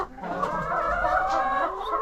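A chicken clucks nearby, a run of short, throaty calls repeating without a break.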